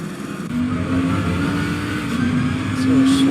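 A GT3 race car in Assetto Corsa Competizione at Snetterton gives a loud, steady engine drone that swells slightly toward the end, with commentary voices faintly underneath.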